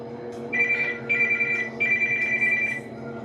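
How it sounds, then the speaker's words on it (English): A phone rings with an incoming spam call during an indoor cycling workout: three bright electronic ring bursts in steady succession over a constant low hum of the trainer. "And there's gonna be a phone call."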